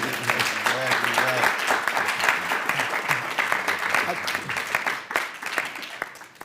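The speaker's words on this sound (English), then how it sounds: "Please, go ahead and applaud." Sustained audience applause at a university museum launch event, dense clapping near and loud throughout, with a voice speaking briefly over the start.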